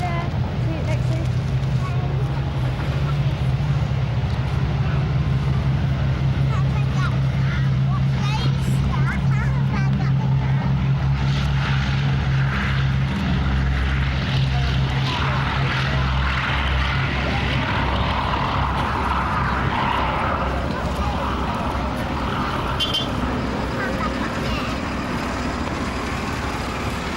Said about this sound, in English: For the last 40 years, this has been Europe's last remaining airworthy C-17 Flying Fortress